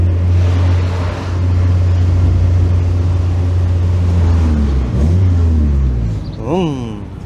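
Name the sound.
Mazda Miata engine exhaust without a muffler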